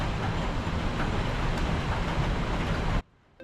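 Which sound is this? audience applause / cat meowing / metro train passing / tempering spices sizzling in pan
metro train passing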